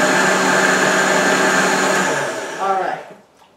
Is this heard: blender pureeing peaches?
yes